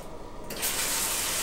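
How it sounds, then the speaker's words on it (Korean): Water from a hotel bathroom shower head bursts on partway through and keeps spraying in a loud, steady, close hiss after a quieter start. "이거는 샤워기 물은 잘 나오는 거."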